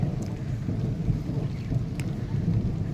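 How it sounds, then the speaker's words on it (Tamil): Heavy rain pours steadily and close, a dense continuous hiss and rumble with no pauses and no voices. "நல்லா மழை பெய்யுது"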